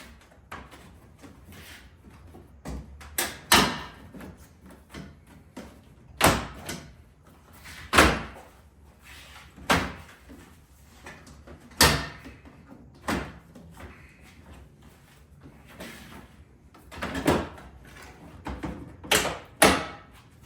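Repeated sharp plastic snaps and pops as a Ford Bronco's grille snap clips are pulled off, a dozen or so irregular bursts close up, with rustling handling noise between them and no talking.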